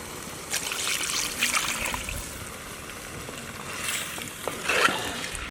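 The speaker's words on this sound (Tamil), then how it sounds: "அதனால் தேவையான தண்ணி ஊற்றிக்கலாம்." Water trickles and splashes into a pot of chicken curry (kozhi kuzhambu) in short pours, close and moderately loud, with brief splattering bursts and no talk.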